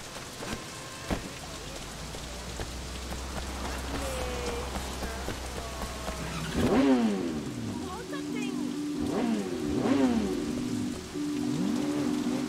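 Steady hiss of rain falling in the Sleeping Dogs video game, a continuous wash of drops with low rumbling game sounds and other brief effects layered over it, and no clear speech.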